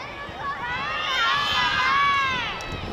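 A crowd of children at a school reading event shouts an answer together in one loud, swelling burst of overlapping young voices that rises and then fades within a few seconds.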